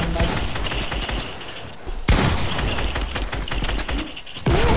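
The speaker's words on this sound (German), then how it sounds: "ich schieße da den Mann an" Gunfire in Fortnite, a rapid run of close, loud shots in steady bursts, broken by two sharp heavy cracks partway through and near the end.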